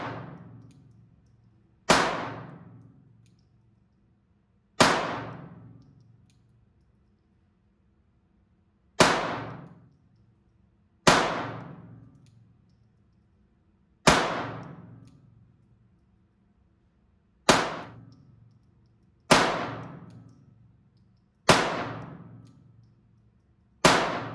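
A Glock 44 pistol is fired at a range, about ten single shots spaced a few seconds apart, each a sharp close crack followed by a short ringing decay, with quiet between shots.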